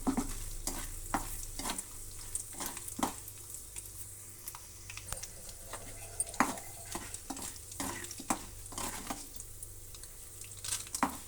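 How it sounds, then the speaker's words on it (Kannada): Two cut dry red chillies sizzle in tempering oil with lentils for a peanut chutney, a low steady fry punctuated by repeated sharp spoon scrapes and taps against the pan, close up. "ಅದರ ಜೊತೆಗೆ ನೋಡಿ 2 ಒಣಮೆಣಸಿನ್ಕಾಯನ್ನು ಕಟ್ ಮಾಡಿರೋದನ್ನು ಹಾಕ್ತಾಯಿದ್ದೀನಿ"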